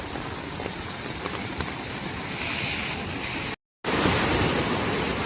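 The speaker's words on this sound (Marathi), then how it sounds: "पाणी काय स्पीडने जात आहे बघा" Rushing floodwater from a river in the Konkan during the first heavy monsoon rain, a loud, steady broadband roar of fast muddy current running close by without a break except for a short dropout, with no voices.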